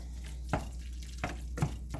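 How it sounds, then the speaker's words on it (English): Sloppy Janes sauce with vinegar, Worcestershire and sugar being stirred in a pan, a few distinct scraping strokes over a low steady background, close and fairly quiet. "And I'm going to stir this up."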